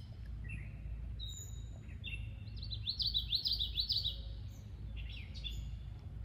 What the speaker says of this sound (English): So I got a catbird and a warbler over my shoulder.